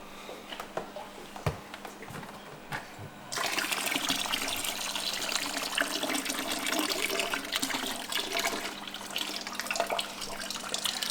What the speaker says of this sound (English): now I'll siphon out this algae